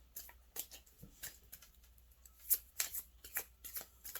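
A deck of tarot cards being shuffled, a run of crisp riffling and slapping bursts at close range, with no voices.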